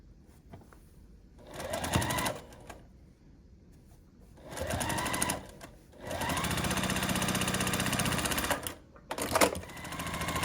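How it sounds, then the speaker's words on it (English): Sewing machine stitching quilt block units together, running in several loud bursts of rapid steady stitching separated by short pauses, with quiet handling sounds between runs. "Then we'll just keep adding the units in the order that they're meant to go and sewing them together."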